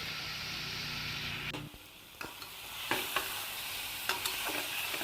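Fried potatoes being stirred into a mutton curry in a pan, with a steady sizzle and several distinct scraping spatula strokes, close and alone.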